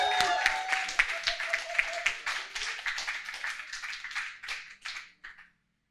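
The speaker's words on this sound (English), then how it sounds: "Can you give him a big round of applause?" Audience applause welcoming a poet onto the stage at a spoken-word event, a dense burst of clapping that thins out and stops, with a voice briefly audible at the start.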